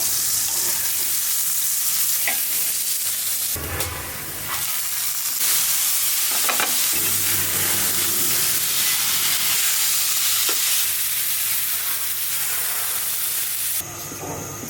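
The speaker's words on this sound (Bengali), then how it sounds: "বেগুন ভাজতে ভাজতে শাকটা সিদ্ধ হয়ে যাবে" Eggplant frying in a pan beside simmering greens in a home kitchen, a steady close sizzle with bursts of louder crackle and occasional stirring scrapes throughout.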